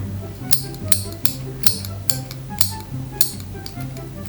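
Nail clippers snip through hair bangs in a series of about eight sharp, close clicks spaced roughly half a second apart, over a low background hum.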